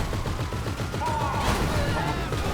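Rapid gunfire from a Grand Theft Auto V firefight rattles on continuously near a military base, the bursts blending into a dense, steady barrage.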